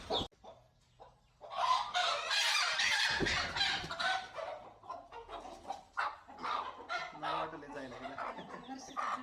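A hen and her chicks cluck and cackle close by, with a busy burst of hen calls and thin chick peeps mixed with some voices in the background.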